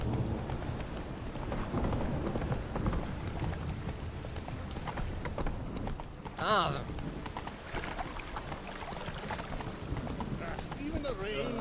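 Roach, Geralt's horse in Witcher 3, trots with rhythmic hoof clip-clops under steady rain and distant thunder, while voices talk over the scene.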